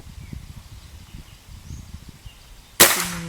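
A single sharp shot from a Goblin air rifle with a wooden stock, the last of a ten-shot string, cracks out loud and close at the end after quiet outdoor ambience with faint rustling.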